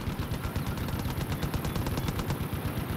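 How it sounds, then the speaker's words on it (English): A mounted gun in the video game Far Cry 5 fires a sustained rapid automatic burst, dense and loud, with a steady rattling rhythm throughout and no talk. "His guns go make ducka ducka ducka"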